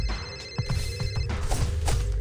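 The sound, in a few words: phone ringing with a voice call, from a TMNT video game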